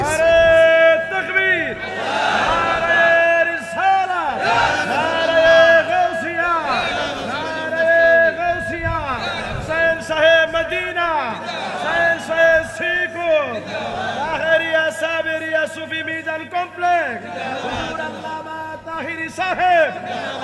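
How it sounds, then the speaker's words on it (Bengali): A large crowd at an Islamic waz mahfil in Narayanganj shouts slogans in unison, loud, close voices rising and falling in repeated rhythmic chant-like bursts that run steadily for the whole stretch. "স্লোগান দেয়।"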